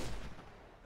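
A single powerful gunshot in GTA V, a sharp, loud crack at the very start followed by a brief, fading boom and rumble.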